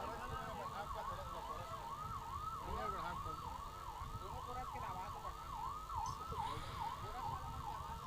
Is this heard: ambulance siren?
yes